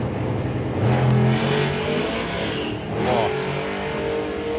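A car at Bug Jam powers down the drag strip, its engine revving hard and close with a sustained, rising roar and a brief gear change midway, while a short exclamation is heard.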